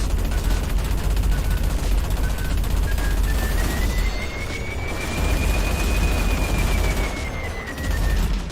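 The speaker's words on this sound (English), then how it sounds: "Destroying more things, autocannon sounds. Auto-firing missiles in a bomber." Space-combat game weapons: a bomber's autocannon and auto-firing missiles in EVERSPACE 2, producing a dense, loud barrage of rapid shots and booms that runs without a break, with a rising whine threading through it.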